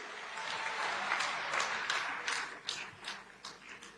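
An audience claps steadily at a public event honouring India's Prime Minister and a Chief Minister, a dense patter of applause that gradually thins out toward the end.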